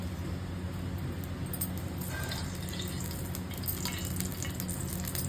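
Pieces of elephant foot yam, first boiled soft, fry in hot oil on a flat tawa, giving a steady low sizzle and crackle that holds throughout with no talking.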